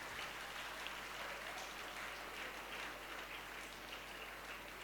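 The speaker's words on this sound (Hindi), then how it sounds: "सम्यक ग्रुप के लिए ताली बजाएं।" An audience claps together at a spiritual talk, making a steady, fairly faint wash of applause that carries on evenly throughout with no voices.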